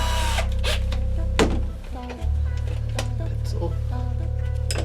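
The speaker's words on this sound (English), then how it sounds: "to pre-drill the center holes" A power drill pre-drills center holes for new basement stairs, whining steadily and close for most of the stretch, dipping briefly mid-way before spinning up again, with sharp clicks and knocks over the motor.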